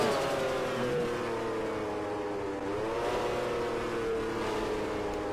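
A game car's engine drones and revs in a taxi driving video game, with a smooth sustained whine that dips and climbs, fairly quiet and unaccompanied by voices.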